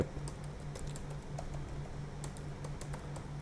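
Light, quick keystrokes patter across a computer keyboard in an irregular run of soft clicks, close and fairly quiet over a low steady hum.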